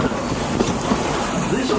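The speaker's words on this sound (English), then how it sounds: "This old steam train needs water to keep going, just like you and me." Old steam train at Magic Kingdom rolling along with a steady rumble and rail noise, close and continuous throughout, with no distinct whistle or chuffing standing out.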